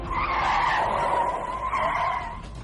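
Car tires skid and squeal at full speed, a loud sustained screech that holds for over two seconds before easing slightly, with no talk over it.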